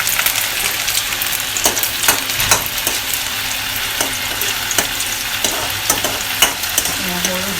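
Lai xaak leafy greens with garlic sizzle steadily in a hot pan, with a dense hiss and frequent clacks of stirring, close and continuous, with no talk over it.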